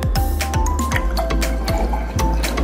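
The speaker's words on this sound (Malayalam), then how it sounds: "അപ്പൊ നമ്മള് മെഷറിംഗ് കപ്പിൽ നിന്ന് ടെസ്റ്റ് ട്യൂബിലേക്ക് വെള്ളം ഒഴിക്കാൻ പോവാണ്." Water poured from a measuring cup into a test tube during a home science experiment, heard as close, wet dripping and splashing with a few soft squishy sounds.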